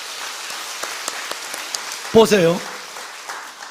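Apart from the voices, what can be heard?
congregation clapping applause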